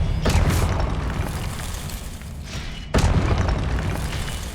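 Two loud Confringo blasting-spell explosions from Hogwarts Legacy, each a sudden booming burst with a long roaring tail, the second striking about three seconds after the first.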